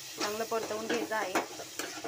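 Tomatoes and capsicum are stirred and sautéed in a pan for pav bhaji, giving soft sizzling and a series of short scraping stirs in quick succession, close and quiet.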